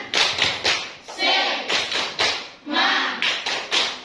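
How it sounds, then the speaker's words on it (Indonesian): Schoolchildren in a classroom clap together in a quick rhythmic pattern, a few bursts of claps separated by short chanted pauses, loud and close. "Kita tepuk semangat dulu. Tepuk semangat."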